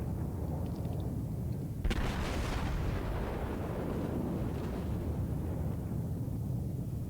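Naval guns firing at the battleship Myogi in World of Warships, one heavy booming salvo under a constant low rumble of sea and engine noise, its roar slowly fading.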